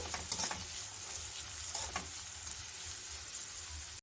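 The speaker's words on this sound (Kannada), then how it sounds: "ಈಗ ತರಕಾರಿ ಎಲ್ಲ ಚೆನ್ನಾಗಿ ಇದು ಎಣ್ಣೆಯಲ್ಲಿ ಚೆನ್ನಾಗಿ ಹುರ್ಕೋಬೇಕು" Chopped vegetables including carrot frying in oil for a rava ragi breakfast dish, a soft steady sizzle close by with light stirring clicks and scrapes, fairly quiet, no talking.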